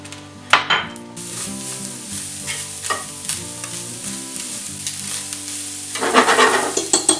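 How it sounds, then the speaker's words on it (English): Onion and ground pepper cooking in a pan for chili cheese dog sauce, a close sizzle with scraping stirs and clinks of a utensil, growing busier and louder at the end, no talk. "And now we'll let those cook for a while."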